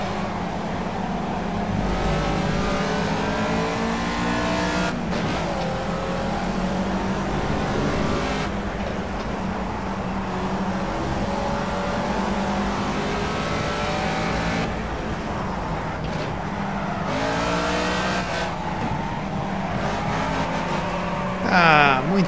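A race car in the Project CARS racing game drones and revs continuously through gear changes, with engine pitch rising and falling, loud and steady throughout.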